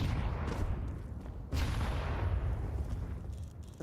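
A grenade detonates in Counter-Strike, a sharp loud blast at mid-point followed by a rumbling decay, set against ongoing gunfire and low battle noise.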